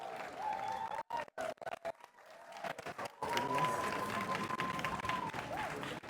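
A congregation at the dedication of the Bethesda temple in Dabou applauds and cheers, the clapping breaking out in scattered bursts and then swelling into sustained crowd applause, with voices mixed in.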